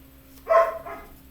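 A single short bark from a large dog, fairly close, followed by a softer second yelp, against quiet room tone.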